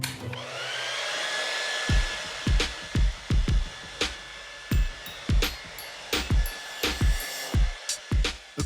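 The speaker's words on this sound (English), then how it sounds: "this is the smartest hairdryer ever built" A Dyson Supersonic hair dryer blows a steady, close airflow hiss, broken near the end by a series of short bursts and thumps as the flow stops and starts.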